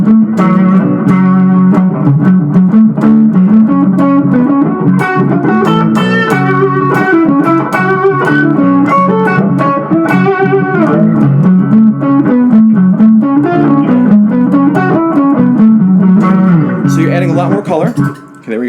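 An electric guitar plays a distorted minor pentatonic solo over a steady, sustained accompaniment; loud, continuous phrasing of bent notes and runs fills the passage before it stops near the end.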